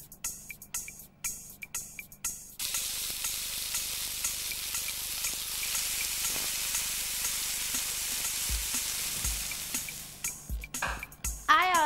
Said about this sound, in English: Put a little oil in a frying pan.